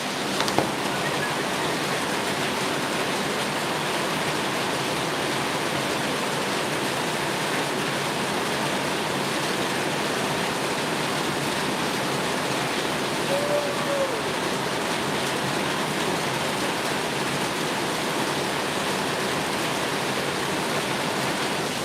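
Running water pours steadily from a tap as it is fetched for cooking, a continuous close hiss lasting the whole stretch with no voices over it.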